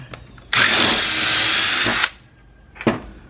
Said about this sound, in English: I don't have a drill press, so it's hard to keep this drill straight up and down